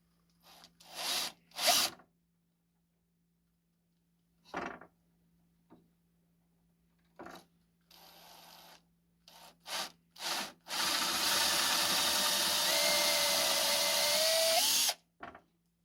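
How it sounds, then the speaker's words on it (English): Short bursts of a power drill starting and stopping, then a long steady whine as it bores a dowel hole into the end of a wood board, close and clear. "just drilling a hole in the end of this to put a dowel in"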